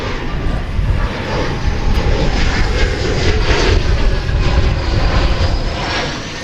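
An airplane landing on runway 18 right at DFW Airport, heard as a loud, steady engine roar that holds for several seconds and eases slightly at the end.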